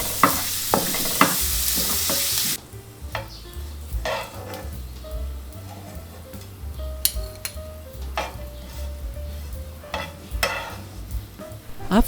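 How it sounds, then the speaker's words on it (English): Minced garlic stir-fries in a hot pan for a freshwater prawn dish: an initial loud hiss fades into gentle sizzling, punctuated by a metal utensil's repeated scrapes and clinks against the pan. "start with stir-frying the minced garlics until they turn golden"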